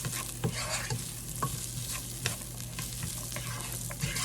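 White or yellow onion sautéing in a pan for broccoli and cheese chowder, with a steady close sizzle and periodic scrapes and taps of a stirring utensil, no voices.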